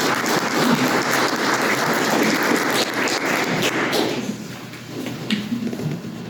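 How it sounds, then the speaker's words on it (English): An audience at a parking forum in Stevens Point breaks into loud, sustained applause with many hands clapping at once, fading slightly toward the end. "let's please give a round of applause"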